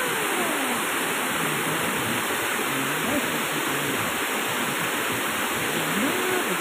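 Steady broadband rush of water pouring at Panas waterfall, a continuous even roar with no pauses, faint low tonal murmurs beneath the constant spray.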